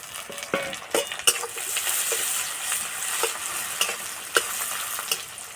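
Chopped tomatoes sizzle in a hot pan over fried onions and whole spices for a fish-roe kofta curry, a continuous close frying hiss with intermittent sharp scrapes and knocks of a spoon stirring, no talking.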